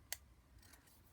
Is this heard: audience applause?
no